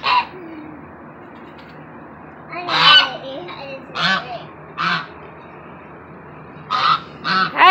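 Goose honking at close range in several loud, separate bursts spread across the stretch, over a steady low background hum with no talk.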